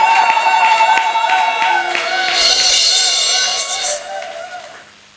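An indoor church assembly claps and acclaims, with dense applause under an amplified voice and musical tones, fading away toward the end.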